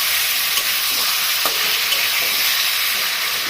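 Taro greens with shrimp being stirred in a frying pan, a steady loud sizzle with soft scraping strokes throughout, no voices.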